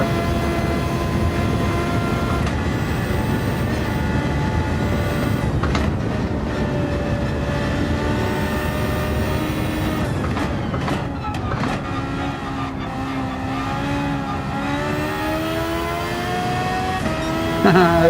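A race car engine in Gran Turismo 7 drops through gears while braking to a stop, revs stepping down in a series of falling whines under a continuous roar, with no voices.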